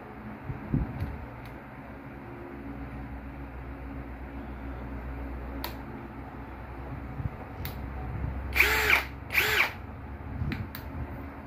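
An INGCO cordless impact drill bores into wood with a steady close whirring hum, rising to two short louder bursts near the end as the bit bites.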